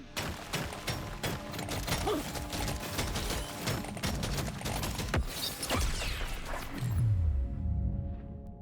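Rapid volleys of weapon fire from a newly acquired gun in the video game Deep Rock Survivor, dense repeated shots and crashes that end in a descending sweep.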